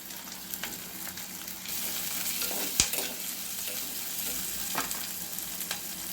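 Sambar onions sauté in hot oil with a pinch of rock salt, giving a continuous close sizzle with occasional stirring scrapes and a sharp clink of a utensil against the pan partway through; no one speaks.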